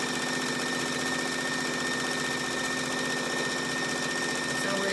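A sewing machine stitches a rectangle of fabric for a no-pleat face mask, running steadily at close range with a dense, rapid mechanical rattle that holds for the whole span without pause.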